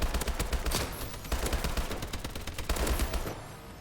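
Rapid automatic fire from an HBR rifle in a Call of Duty video game, a loud, dense stream of evenly spaced shots running almost continuously before trailing off at the end.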